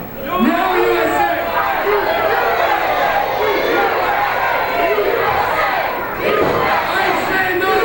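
Loud crowd at an independent wrestling event chants and shouts in unison, a dense, continuous roar of many voices filling the space, with an announcer talking over it.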